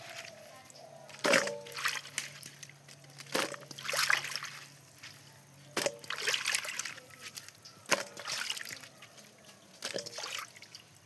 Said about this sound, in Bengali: আমি এখন কচু কাটা ধুমু, ধোয়া দিছি।